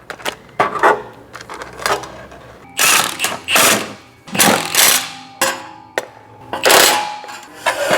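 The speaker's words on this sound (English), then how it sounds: "Now I just need to tighten all of them up with my mile-long extension." A ratchet on a long extension tightens transmission housing bolts on a 2010 Mercedes E63 AMG, giving bursts of rapid metallic clicking separated by short pauses, close and fairly loud.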